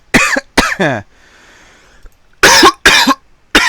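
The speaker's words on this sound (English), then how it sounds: "There's the cough again, guys." A single clear cough sounds in a short gap between bursts of close speech, followed by faint background hiss.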